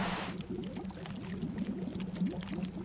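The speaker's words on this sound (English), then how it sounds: "Listen to that bubbling sound." Water bubbles and gurgles in The Long Dark survival game, a soft steady burble that runs the whole time with no voices.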